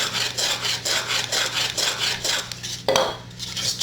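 A tool chamfers the edges of a wooden tansu chest in repeated rhythmic rasping strokes, close and fairly loud, with one sharper scrape near the end and no talk.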